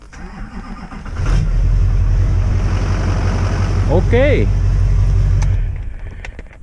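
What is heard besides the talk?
Duramax diesel engine starting and running after swap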